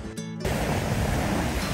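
Sea waves wash against a rocky shoreline with no sand, a steady broad rush of surf that swells suddenly and then holds, loud and close, with no voices.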